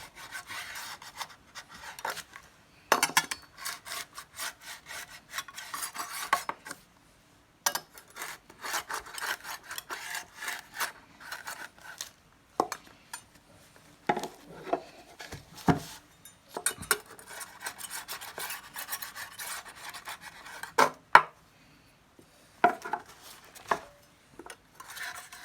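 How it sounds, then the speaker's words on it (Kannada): Banana leaves being cut to tile size on a tile, for making leaf bowls (donne): close, dry rasping and rubbing strokes in irregular bursts with brief pauses, no talking. "ಮತ್ತು ಅಳತೆ ಟೈಲ್ಸ್ನ ಮಧ್ಯದಲ್ಲಿಟ್ಟು ಅದನ್ನು ಆ ಟೈಲ್ಸ್ ಅಳತೆಗೆ ಕಟ್ ಮಾಡ್ಕೊತಾ ಇದ್ದಾರೆ"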